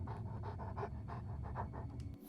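A dog panting in the video game The Elder Scrolls IV: Oblivion, a steady run of quick rhythmic breaths at close range, heard alone without talk.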